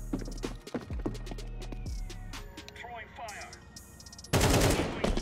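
Counter-Strike 2 gunfire, with sharp rapid shots in short bursts amid game sounds, closing in a loud blast of noise, while a voice talks over the action.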